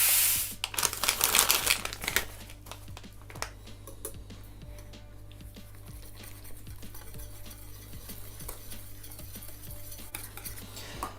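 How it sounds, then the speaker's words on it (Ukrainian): No-bake cake mixture being stirred in a bowl, with a brief louder clatter at the start and then a steady run of soft, quick scraping clicks. "І перемішуємо"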